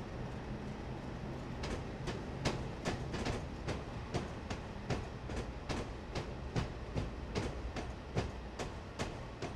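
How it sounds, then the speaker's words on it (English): A simulated Class 47 locomotive hauling a long coal train rolls over track switches, giving a continuous run of rhythmic clickety-clack wheel beats over a steady rolling rumble, fairly faint and with no talking. "Hear the clickety clack of all the switches."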